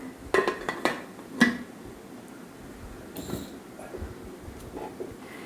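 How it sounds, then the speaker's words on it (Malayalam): Pressure cooker lid being closed while making chicken biryani, a cluster of sharp metallic clanks and clinks near the start, then quieter rattles and handling noises, close by. "നമുക്ക് പ്രഷർ കുക്കർ അടയ്ക്കാം"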